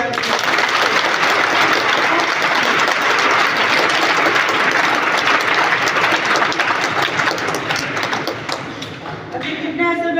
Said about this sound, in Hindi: चलिए एक बार मौजी लोगों के लिए भी ताली हो जाएगी